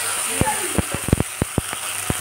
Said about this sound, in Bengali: আমি এই টমেটোটা বেটে রেখেছি, টমেটো বাটাটা আমি